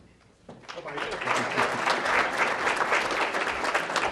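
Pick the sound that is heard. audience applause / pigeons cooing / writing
audience applause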